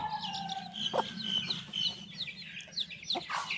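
Taxila Aseel hens and a rooster cluck softly in a farmyard, scattered short calls overlapping at moderate distance against a low background hum.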